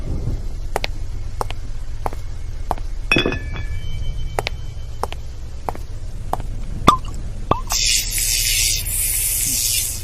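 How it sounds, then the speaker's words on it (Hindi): A new glass bottle and glasses clink as drinks are served in a quiet room, with sharp, evenly spaced taps followed by a rushing hiss near the end. "बिल्कुल मिस्टर एंगले, मगर सबके सामने नई बोतल खोलिए"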